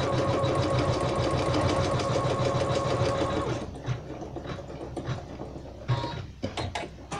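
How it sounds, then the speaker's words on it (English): An embroidery machine stitches a placement line for a dress, running a steady, dense mechanical chatter for about three and a half seconds before the stitching turns sparser and halting. "it's gonna go and sew that placement line for the dress"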